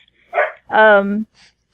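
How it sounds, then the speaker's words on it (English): Dogs bark and yip nearby in two quick bursts, one short and one longer harmonic bark, with a faint trailing yelp, heard in a quiet room. "there go the dogs"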